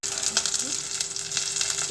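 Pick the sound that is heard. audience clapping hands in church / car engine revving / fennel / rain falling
fennel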